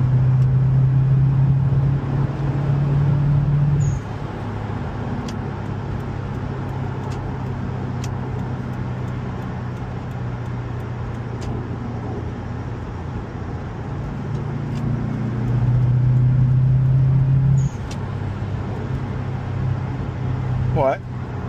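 An old car drives along the road, heard from inside as a steady engine drone and road rumble with a low hum that swells at times, while people talk over it.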